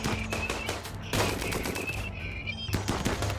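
Rapid machine-gun bursts and gunshots from a RimWorld firefight, loud and dense, with brief pauses between volleys and no talking over them.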